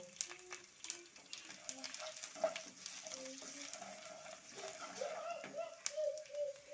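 Curry leaves and chili powder drop into hot oil already frying sesame and mustard seeds for a cabbage snack, giving a faint, continuous sizzle broken by light clicks and scrapes of stirring.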